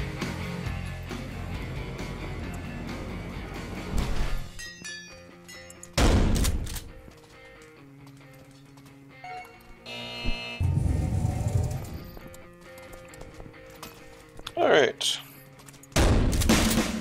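Shotgun blasts in the Paint The Town Red prison level, several loud booming shots in separate bursts between stretches of game noise and music.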